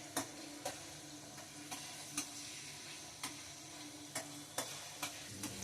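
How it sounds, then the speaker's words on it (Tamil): Banana, raisins and pineapple frying in ghee for kesari bath, a low steady sizzle with brisk periodic scrapes and stirring clicks repeating about every half second. "நெய்ல அப்புறமா எண்ணெயில போட்ட வாழைப்பழமும் திராட்சை இது பைனாப்பிளும் நல்லா வறுபட்டுருக்கு ஃப்ரெண்ட்ஸ்"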